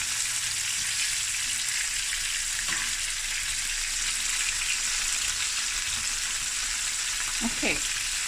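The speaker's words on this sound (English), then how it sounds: "I'm just going to continue with making the fish, frying the fish" Snoek fish frying in a pan gives a steady, soft sizzle throughout, with a faint clink or stir near the end and no voices.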